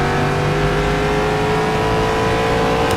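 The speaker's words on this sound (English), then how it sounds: "Hope you enjoyed the sounds of the car, because I certainly am" Corvette C7.R GTE racing engine at Sebring in rFactor 2, a loud steady drone with sustained harmonic whine held at near-constant pitch, close and continuous throughout.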